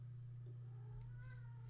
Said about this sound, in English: you may also hear my cat meowing outside my door